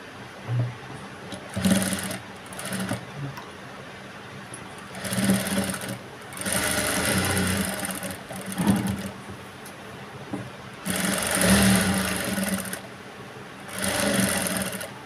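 A sewing machine runs a double stitch along lace on a blouse, several bursts of steady whirring separated by short pauses, close and fairly loud.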